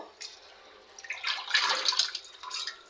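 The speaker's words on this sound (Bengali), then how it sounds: "সব শাক ধুয়ে নিলাম, ধুয়ে তারপরে কাটবো" Leafy greens are swished and rinsed in water, producing soft, uneven splashing and trickling that swells in the middle of the short stretch.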